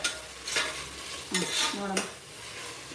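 Tomatoes fry in a pan for tomato rice, with a soft steady sizzle and a few quick metallic scrapes of a spoon stirring against the pan, close by and without talk.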